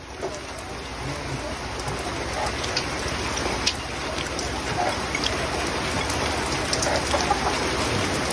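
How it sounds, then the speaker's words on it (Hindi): Steady rain patter fills the scene, a continuous hiss of drops on surfaces with a few brighter taps, moderately close and unbroken. "मौसम देख रहे बिल्कुल बारिश पड़ रहा है गाइस"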